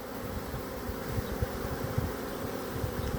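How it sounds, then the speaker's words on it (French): A honeybee swarm being hived into a box hums steadily at close range, a dense, continuous buzzing of many bees with small swells in loudness and no voices. "Là, je trouve qu'elles se sont calmées depuis 5 minutes. J'espère que la reine est à l'intérieur et qu'elle ne se trouve pas à l'extérieur de la ruche."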